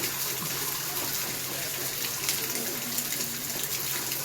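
Water pouring steadily from a tap that runs all day, a continuous hiss and splash at moderate level with no pauses.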